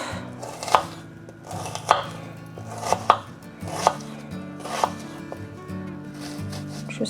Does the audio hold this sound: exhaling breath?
no